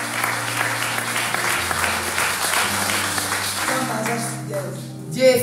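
A crowd at a church women's retreat claps in praise, with sustained applause running alongside music and background voices before it tapers off.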